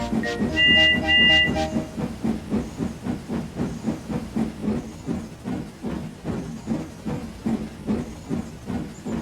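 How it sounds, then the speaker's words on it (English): A steam locomotive hisses and whistles briefly, then chuffs in a steady rhythmic beat as it rolls into a station, loud and close. "a new Railtour train came into the station"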